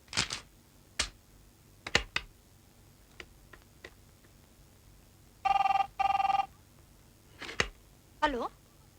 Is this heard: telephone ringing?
yes